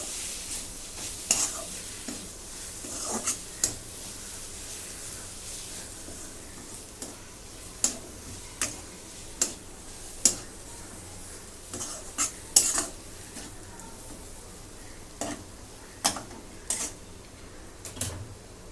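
Peanut powder is stirred into cooked dill greens in a pan: a spatula scrapes and clinks against the metal in an irregular rhythm over a soft, continuous sizzle.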